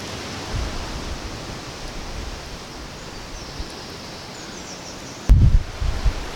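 An outdoor waterfall rushes with a steady, even roar of falling water, continuous and fairly loud, with a brief thump and rustle near the end.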